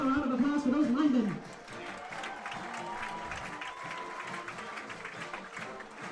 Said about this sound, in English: How a round of applause for those linemen.